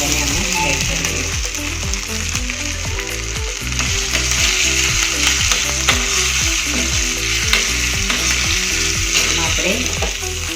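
Small potato pieces sizzle steadily in a pan with turmeric, chili, peanuts and curry leaves, a loud continuous frying hiss with rhythmic scraping and stirring knocks throughout, no voices.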